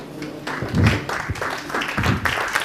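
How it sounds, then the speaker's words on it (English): An audience applauds a speaker at a talk, a steady wash of clapping with some rising bursts, fairly close and continuous throughout. "if you could please stand up and give him a big round of applause"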